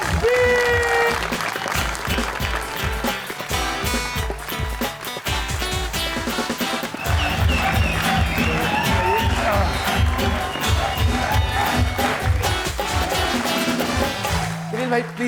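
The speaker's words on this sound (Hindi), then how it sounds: "मैं चाहता हूं आप और मैं मिलके बहुत सारी तालियों के साथ, जज्बे के साथ मोहब्बत से बुलाए" A television studio audience on the Pakistani talk show Had Kar Di applauds to welcome a guest. Loud, sustained clapping and cheering runs throughout, mixed with music and a voice.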